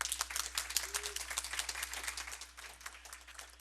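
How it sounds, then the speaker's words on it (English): Rousing audience applause at an education summit honoring a congressional guest, many hands clapping in a steady, dense wash, moderately distant and fading slightly toward the end. "Let me say how excited I am to hear that rousing applause"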